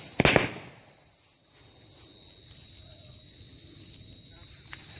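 Several firecrackers burst together at a Narakasura effigy burning, a sharp cluster of loud cracks at the start, followed by fading crackle and a steady high insect-like drone.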